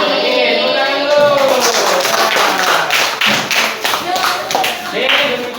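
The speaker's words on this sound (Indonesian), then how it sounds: "Oke, tepuk tangan dulu." Classmates in a school classroom clap after a student group's presentation, a loud, close burst of many hands beating irregularly for several seconds, with a few thuds and taps mixed in.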